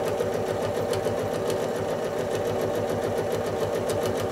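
A sewing machine runs fast and steady while stitching a quilt block, its needle chattering in a dense, even rhythm, close and loud throughout.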